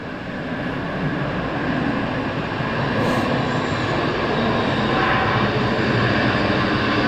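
Airbus A320 landing and braking at Southend Airport, a steady broad roar of engines and rushing air that holds loud and unbroken throughout, with no voices.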